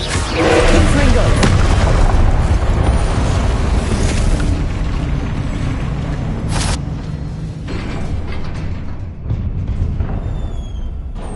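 A blasting spell from a Harry Potter film erupts into a heavy, close explosion with a sustained roaring rumble that fades slowly, broken by a few sharper bursts of debris.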